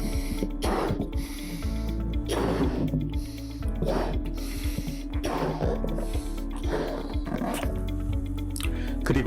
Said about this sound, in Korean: 제가 풍선에 바람을 한번 들어보겠습니다.